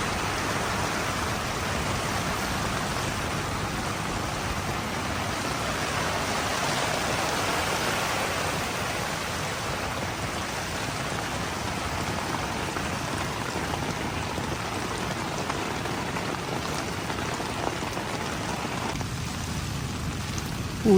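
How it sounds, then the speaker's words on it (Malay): Heavy rain pours steadily at a seaside campsite, a dense, continuous hiss of drops drumming on tent flysheet and ground with wind, loud and unbroken for the whole stretch. "Sebab hujan lebat."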